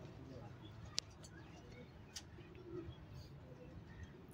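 Red pigeons cooing faintly in a loft, soft low murmuring under room noise with a couple of sharp clicks.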